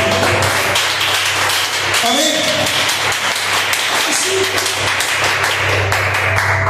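A church congregation at a Baptist service claps along in a sustained wash of applause, with a voice speaking and murmuring over it.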